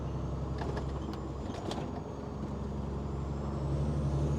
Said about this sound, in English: The truck is fairly loud.